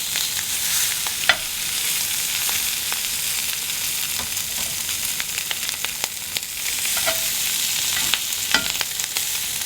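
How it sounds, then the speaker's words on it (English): Blackened colossal head-on shrimp sizzling in a hot grill pan, a loud, dense, unbroken frying hiss with scattered small pops and crackles throughout, heard up close with no voices. "Going right down in our grill pan with our head on blackened colossal shrimp."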